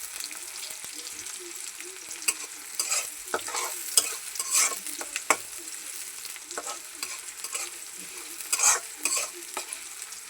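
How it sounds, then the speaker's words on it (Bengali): Onion frying in a pan for a chicken curry gives a faint, steady sizzle broken by scattered scraping and clacking stirs, close and quiet throughout. "পেঁয়াজটা আমি ভালো করে ভাজা নিব।"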